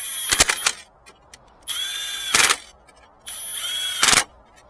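An impact gun loosening a car battery terminal bolt on a Chevy Equinox: three loud, close bursts, each a sustained whir ending in a hammering rattle, with quiet gaps between.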